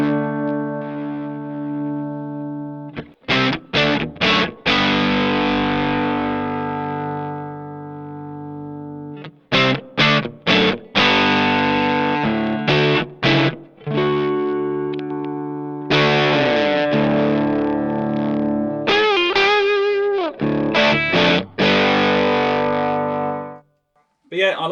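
Electric guitar through a Sitek Freya overdrive/boost pedal set to its middle clipping position, giving a milder, less aggressive drive; loud strummed chords ring out in bursts separated by brief pauses, with no voices.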